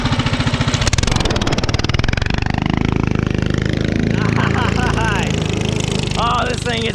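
A small motorized vehicle, likely a DIY build with a new header, tank and tires, revs hard at full throttle with a steady, loud, buzzing engine drone while a wheel spins; people talk and exclaim over the noise.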